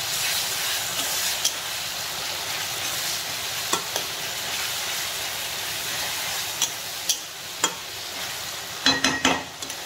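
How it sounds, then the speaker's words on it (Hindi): Street-style veg chowmein stir-fried with tomato sauce, heard as a steady loud sizzle and hiss from the pan, with a few sharp clanks of a utensil scattered throughout, no talking. "एबे ताकू टिके भल भाव फ्राए करदवा"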